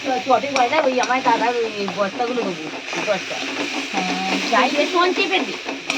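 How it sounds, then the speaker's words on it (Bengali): Steady sizzling of tomatoes frying in a pan, with a person talking over it throughout. "টমেটো করছি, ভাজছি"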